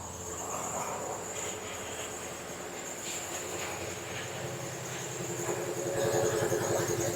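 A Toyota Corolla engine with a dead misfire from a failed coil pack runs steadily throughout, an uneven low rumble with a faint high whine overhead, getting slightly louder toward the end.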